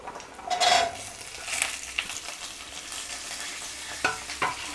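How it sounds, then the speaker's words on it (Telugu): Vegetables and beans are stirred together in a pot for sambar, with a close spoon scraping and clattering against the metal over a light sizzle, in a few quick bursts. "ఇవన్నీ బాగా కలుపుకోవాలండి"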